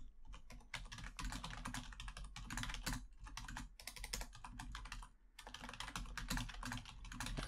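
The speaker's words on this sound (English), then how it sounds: "I'm just typing to him" Rapid typing on a computer keyboard, close and crisp, with bursts of clattering keystrokes broken by brief pauses.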